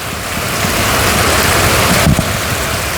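Heavy morning rain pours down in a dense, steady hiss, loud and close with no pause, a faint low rumble briefly showing near the end.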